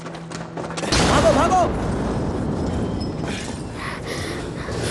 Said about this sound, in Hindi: इस धमाके से हम सबकी मौत हो जाती।